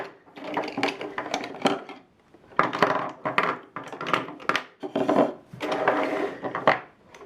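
Makeup products are pulled out of a storage container, making clattering, rubbing and knocking sounds of plastic cases shifting against each other, in close bursts with short pauses.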